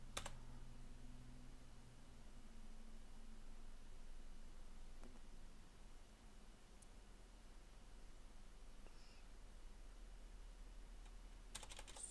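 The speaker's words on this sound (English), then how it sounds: "So to install it, I'll type the following command: sudo apt-get install openssh-server." Someone types a Linux install command on a computer keyboard, with steady soft key clicks running through the whole stretch over a low background hiss and no talking.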